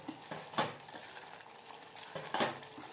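Broad beans stir-fried in a pan, with two scraping stirs of a utensil against the metal over a soft, steady frying crackle, close and fairly quiet, no voices.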